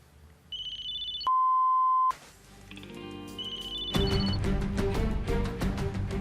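Electronic phone ringtone in an indoor scene: a short high beeping tone, then a steady beep, followed by a repeating melodic electronic ring with a busier background underneath.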